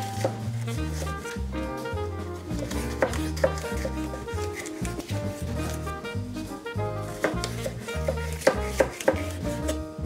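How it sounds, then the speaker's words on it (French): A knife slices bell peppers into thin strips on a cutting board, making rapid, rhythmic chopping taps that sound close and fairly quiet, with no speech. "Et on va les trancher, vous voyez, en lamelles, hein, de cette épaisseur environ."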